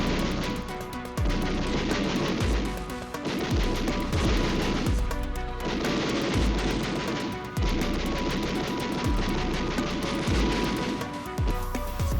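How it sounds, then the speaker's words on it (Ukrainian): Bursts of heavy 25 mm autocannon fire from an M2A2 ODS-SA Bradley fighting vehicle thump out in rapid rhythmic volleys, loud and close, with brief gaps between strings of shots. "далі в хід пішла 25-мм гармата"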